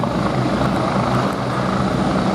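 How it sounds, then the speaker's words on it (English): A Westland Wasp naval helicopter flies at an air show, its steady, loud rotor and turbine roar filling the whole stretch without a break. "a helicopter capable of operating from Royal Navy small ships"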